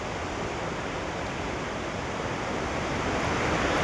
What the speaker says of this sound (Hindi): यहाँ से जो है पानी निकल रहा है।